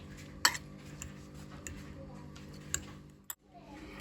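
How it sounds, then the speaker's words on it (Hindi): Tomato and onion are stirred into an omelette egg mixture in a bowl, heard as quiet scattered clinks and taps of utensil on dish, with a sharper knock near the start. "अब हम इसको मिक्स करेंगे।"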